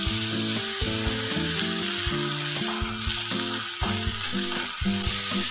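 Hinchashak greens seasoned with salt and turmeric sizzle steadily in a hot pan, a dense continuous crackle with occasional stirring scrapes, close and loud with no talk.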